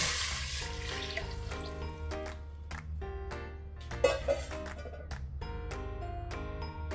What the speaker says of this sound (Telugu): 4 కప్స్ వాటర్ పోసుకోవాలి